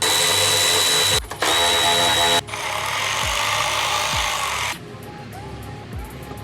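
Power tool whirring as it removes 10 mm bolts holding a bracket during an Audi R8 exhaust install. Loud sustained buzzing runs in two short bursts, then one long run, followed by quieter clunks of handling.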